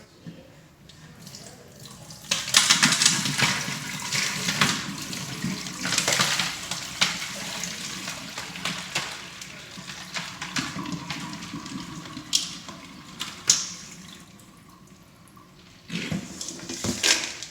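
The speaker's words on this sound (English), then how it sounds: "So now I am going to drain my eggs." Boiled eggs are drained as water pours and splashes out of a pot into a sink, a continuous rushing wash with a few sharper clatters near the end.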